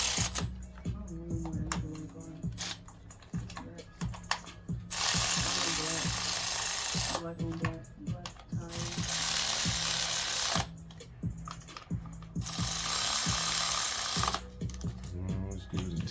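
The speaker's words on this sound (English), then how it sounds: "Let's spin these on up." A ratchet works in short clicking bursts to tighten spark plugs in a Hyundai Sonata 2.4L engine, alternating with louder stretches of broadband mechanical noise, all close and fairly loud.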